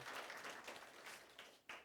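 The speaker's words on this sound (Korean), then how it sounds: "잠깐 일어나시면 저희가 박수로 환영하겠습니다." A church congregation at a Sunday service claps to welcome visiting guests, a brief, quiet patter of many hands that dips and swells again near the end.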